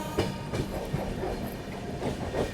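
A Rajdhani Express rolls through Agra Cantt junction, heard from inside the coach as a steady rumble with rhythmic clickety-clack of wheels over rail joints, loud and continuous.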